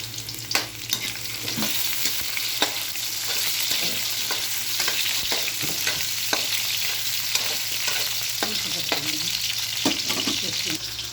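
Onions and potatoes sauté in a pan for pork rib caldereta, giving a steady close sizzle with repeated light scraping and clicking from stirring.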